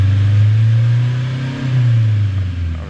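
A Nissan X-Trail diesel engine, the same unit as in the Renault Trafic, with a low-power, low-boost fault, revs up steadily. A loud, close, continuous mechanical drone swells and rises in pitch, with no talking.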